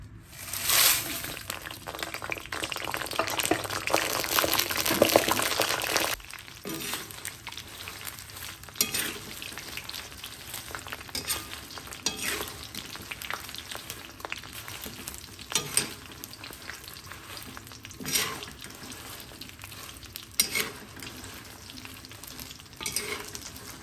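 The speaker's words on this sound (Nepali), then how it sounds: "यो लसुन फ्राई गरेको तेलमा फेरि खुर्सानी राखेँ मैले।" Chilies fry in oil already used for frying garlic, with a loud burst of sizzling that settles into steady crackling and intermittent stirring scrapes.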